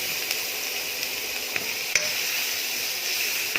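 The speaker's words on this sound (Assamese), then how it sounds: "অকণমান ৰঙচুৱা হোৱালৈকে ভাজি ল'ম" Chopped onions sizzle steadily in a hot pan while being fried until lightly browned for an egg and chana curry, a continuous close hiss with a few sharp clicks and scrapes of stirring.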